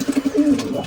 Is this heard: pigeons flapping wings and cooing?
yes